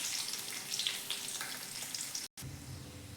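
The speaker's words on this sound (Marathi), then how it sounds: "थोडा लसूण टाकून घेऊयात. हे चांगलं परतून घेऊया व्यवस्थित." Garlic sizzling and frying in a pan with curry leaves, a close steady crackle that briefly cuts out near the end and then resumes with a deeper hiss.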